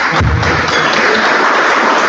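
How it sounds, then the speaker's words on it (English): A church-style audience claps for members' wedding anniversaries, a dense burst of hand-clapping that starts at once and holds steady for two seconds, close and loud. "let's give everybody a round of applause for"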